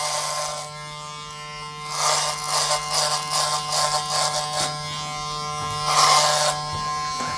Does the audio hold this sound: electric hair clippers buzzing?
yes